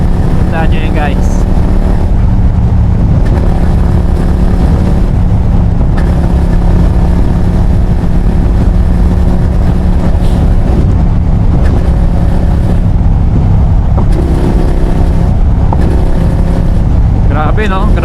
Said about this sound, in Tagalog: Yung exhaust ang nagbibigay ng ganda ng tunog.